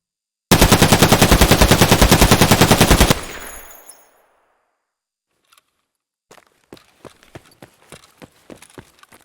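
Automatic gunfire in Escape from Tarkov rips out in one loud sustained burst, then fades to silence before a run of quick, lighter footsteps or clicks.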